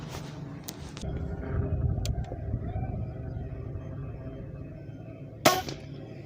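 A single sharp crack from a Nova Freedom PCP air rifle firing a 15.42-grain pellet over a chronograph, standing out against steady low background rumble.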